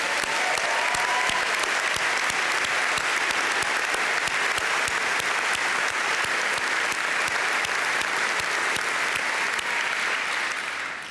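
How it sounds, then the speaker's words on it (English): Graduation audience applauding and cheering at a University of Dundee ceremony, a dense, steady wash of clapping from a large crowd that continues at full strength for about eleven seconds before easing slightly at the end. "I think that deserves another loud cheer."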